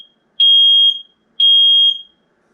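Nest Protect smoke alarm sounding during a smoke test: two loud, piercing high beeps, each lasting about half a second and spaced a second apart, close and alone.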